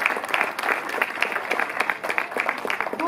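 Audience applause at the inauguration of the Fête au Pays du Ried 2023 in Holtzwihr, a dense, steady clatter of many hands clapping together for about three seconds, fairly close and without pause.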